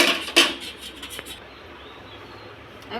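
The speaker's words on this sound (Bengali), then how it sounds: "কড়াই বসিয়ে দিলাম" A metal wok set down on a home gas stove gives a few sharp clanks and scrapes in the first second and a half, then a quiet, low hiss carries on to the end.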